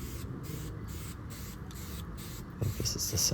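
Spray paint hisses onto a 4th gen 4Runner grille in short, regular bursts, about seven quick passes at close range, with a faint rattle near the end.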